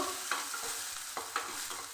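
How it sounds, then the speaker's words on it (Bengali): Soft sizzling of raisins frying in ghee, with a few gentle scraping stirs of a spoon against the pan at irregular intervals. "এবার ঘিয়ের মধ্যে দিয়ে কিশমিশ ভেজে নেব"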